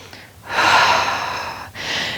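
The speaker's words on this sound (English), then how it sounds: "Nice big inhale and exhale as you lift on up." Deep inhale and exhale during a Pilates exercise: one long, close breath swelling and fading over about a second, a brief pause, then a second breath starting, with no talking.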